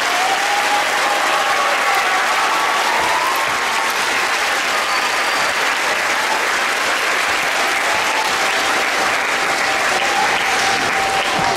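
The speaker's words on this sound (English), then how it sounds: "Let's give our cadet and intermediate him one more round of applause" Loud, sustained applause from a school winter concert audience in a gym, dense clapping that holds steady throughout for a cadet and intermediate band.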